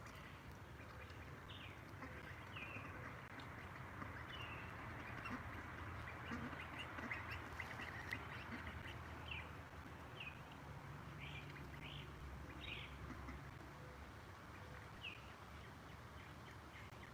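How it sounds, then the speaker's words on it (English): Four Khaki Campbell ducks bathing give scattered soft quacks throughout, faint against a steady background of water and ambient noise, with no voices. "they're khaki Campbell ducks"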